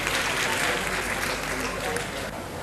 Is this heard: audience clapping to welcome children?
yes